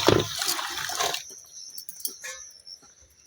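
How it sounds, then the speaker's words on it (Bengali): Taro being rinsed by hand in water in a basin: a loud sloshing splash at first, then quieter trickling and dripping. "গামলার মধ্যে কচুগুলোকে ঢেলে দিলাম, দিয়ে জল দিয়ে দিলাম"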